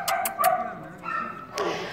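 A dog yips and whimpers in a few short, high-pitched bursts, then gives a thin whine. The sounds are close and moderately loud, with a little background noise.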